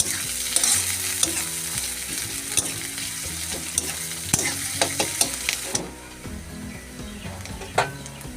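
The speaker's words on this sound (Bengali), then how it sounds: "পেঁয়াজটাকে ভালোভাবে লাল লাল করে ভেজে নেব।" Two large chopped onions fry in oil with cumin in a pan for a magur fish curry, a dense sizzle with repeated clattering spatula strokes that quiet toward the end.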